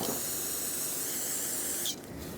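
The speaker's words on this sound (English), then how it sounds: "Once you're done, rinse it off with brake parts cleaner." Aerosol brake parts cleaner sprays in a steady, close, hissing jet onto a rear brake rotor of a 2011-2025 Dodge Durango for about two seconds, then cuts off abruptly, leaving a quieter hiss behind.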